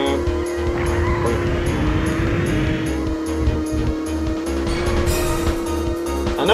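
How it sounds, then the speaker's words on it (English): Video game car drifting in Gadget Racers on PS2, a sustained engine drone with a sliding, squealing tire tone rising and falling over several seconds, loud and close. "Drifting down."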